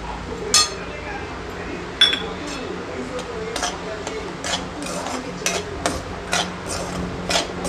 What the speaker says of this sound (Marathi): रवा मस्त असा खमंग वास सुटेपर्यंत भाजून घ्यायचा आहे।